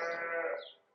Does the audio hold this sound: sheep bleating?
yes